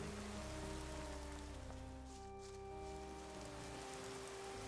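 Rain falls in the Gothic 2 video game, a constant soft hiss layered over humming ambient music tones, quiet and without speech.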